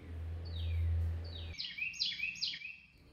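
Red-whiskered bulbuls, a family with a parent feeding its chicks, give a quick run of bright chirps. A low hum fades out partway through, and a few sharp whistled calls follow close by.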